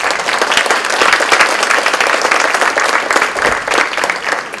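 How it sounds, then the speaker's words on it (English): An audience at a high school distinguished alumni awards ceremony applauds steadily, dense clapping held at an even, loud level for the whole stretch with no voices breaking through. "Let's give them a round of applause."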